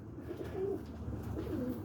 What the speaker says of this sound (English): film the birds in here. This is the coop.